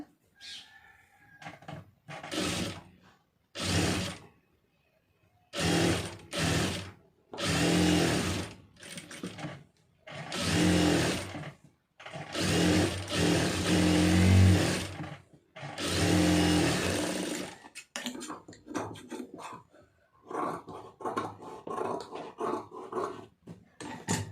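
An electric sewing machine stitching the lining fabric of a blouse, running in repeated bursts of whirring and rapid needle clatter separated by short silences, close and loud.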